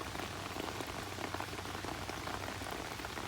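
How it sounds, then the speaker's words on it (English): Heavy rain pours steadily outside near a downspout, a dense, even hiss of drops splashing on surfaces, continuous and close with no voices. "raining pretty good"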